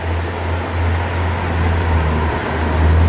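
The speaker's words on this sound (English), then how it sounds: "Mercedes driving up." A Mercedes car drives up a street in the German town of Rothenburg ob der Tauber, a close, steady low engine hum and tyre rumble with a faint mechanical whine, no voices.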